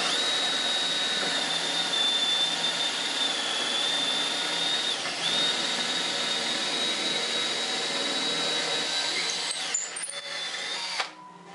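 A power drill spins a length of wood stock through a dowel-making jig with a loud, steady high whine. The whine holds for about eleven seconds, then stops with a few clunks near the end.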